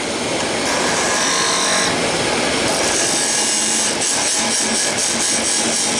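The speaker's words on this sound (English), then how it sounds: "grab the skew chisel, engine back on, a little bit of a cut in there" Wood lathe spinning as a skew chisel cuts into the turning wood, a steady loud scraping hiss with slight rhythmic variation throughout, no talking.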